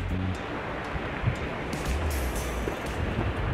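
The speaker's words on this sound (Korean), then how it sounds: "파도 소리 너무 좋아요." Ocean waves wash steadily onto a beach shore, a continuous loud roar of surf with swelling breakers and some wind, no talking.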